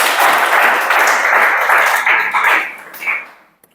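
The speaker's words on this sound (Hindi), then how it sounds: "ताली बजा दो।" Classroom audience clapping together on request, a dense burst of hand claps lasting about three seconds before tapering off into silence.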